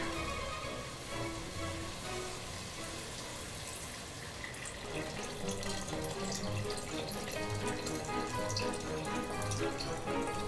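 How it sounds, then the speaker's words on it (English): Water poured into a pot of Hungarian beef goulash, a continuous splashing, gurgling stream that grows fuller and louder partway through, close and unbroken with no talking. "We'll go ahead and add in some water."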